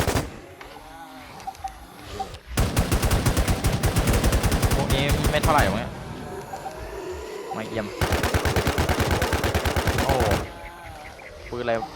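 Bursts of rapid automatic gunfire from the online shooter WarZ Siam, two long sustained volleys separated by a pause with scattered single shots and game noise.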